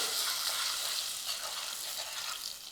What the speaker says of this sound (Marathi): घालूयात बेडगी मिरची पावडर आणि मसाला याला मंद आचेवर परतून घेऊया